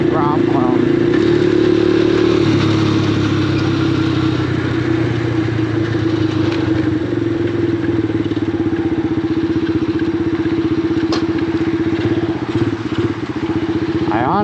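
Venom X19 pocket bike, a small Grom-clone engine with an opened-up carb, droning loud and steady while riding, with a constant mid-pitched engine tone close to the microphone throughout.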